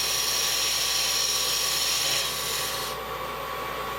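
A gouge slicing across spinning wood on a lathe, a dense, continuous hissing rasp with a steady motor hum underneath, close and loud, easing slightly softer in the final second.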